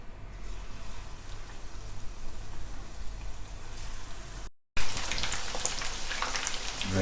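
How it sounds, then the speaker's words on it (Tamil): Marinated chicken pieces fry in hot oil for an Indo-Chinese dragon chicken starter, making a steady, dense crackling sizzle close by, cut by a brief silence before it returns louder and brighter. "எண்ணெய் சூடானதுக்கப்புறம் மேரினேட் பண்ணி வச்சுருக்க சிக்கனை ஒரு பீஸாக போட்டு தனித்தனியாக பொரித்து எடுக்கணும்"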